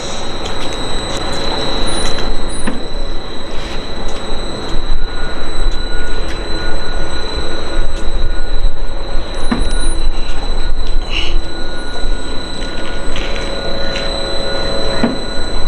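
Thin, repeated high squealing during a sailboat launch, heard as a steady whine above a constant mechanical rumble throughout.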